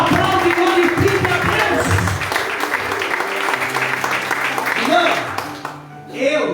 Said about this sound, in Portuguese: Aplaude e glorifique